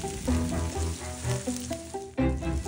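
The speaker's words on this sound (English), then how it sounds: "heat 2 tablespoons of olive oil and sauté your yellow squash, zucchini, and red onion" Yellow squash, zucchini and red onion sautéing in olive oil in a large nonstick skillet, a steady close sizzle with a low hum running underneath and a sudden louder burst near the end.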